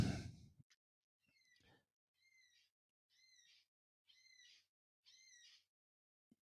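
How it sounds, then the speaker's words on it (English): Short repeated chirping bird calls from a bird in the yard, five or six evenly spaced bursts, fairly faint and distant, after a brief breathy sound at the start. "can you hear that bird out in the yard?"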